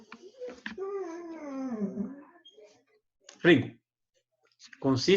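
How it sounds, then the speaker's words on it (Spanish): A pet dog whimpers and whines in a long, falling, drawn-out tone, followed by a couple of short, sharp yelps or barks, close and fairly loud in a quiet indoor room. "voy a sacar al perro que ya empezó a molestar"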